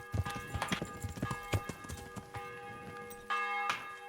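Horse hooves clip-clop in a quick, uneven gallop rhythm in the medieval game Kingdom Come: Deliverance, near and distinct over a faint ambient tone, with a bell-like ring toward the end.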